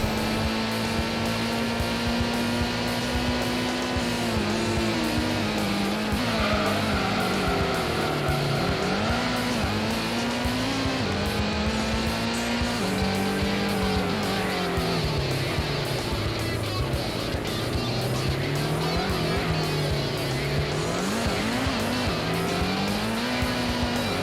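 A racing car in Gran Turismo drives hard, its engine note loud and close, rising and falling through gear changes, with tire squeal and skidding through corners and no talk.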